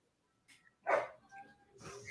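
A pack of excited dogs barks in a few short, sharp bursts, moderately close, with whimpering yips between the loud barks and no clear talk.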